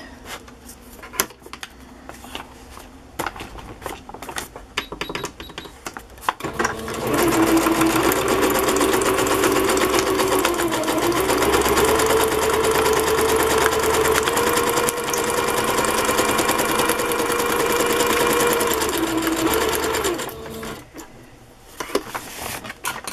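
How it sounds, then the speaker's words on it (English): A sewing machine runs steadily for about thirteen seconds with a buzzing, rapid mechanical whir, preceded and followed by clicks and handling noises. "And now I will just sew it. I'm using the zigzag stitch."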